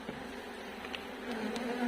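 Fierce honey bees buzz around an open hive, a dense, continuous hum with individual bees zipping close by the microphone, fairly faint and steady with no talking.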